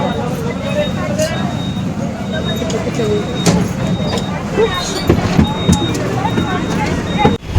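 Buses and road traffic rumble at a bus stop near JNTU in Hyderabad, a continuous mid-distance drone of engines with passing vehicles, heard under people talking nearby.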